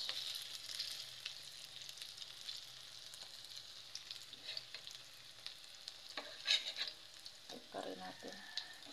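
Banana heart omelette (tortang puso) frying in oil, a steady soft sizzle throughout with occasional louder crackles and pops near the end, with no talking.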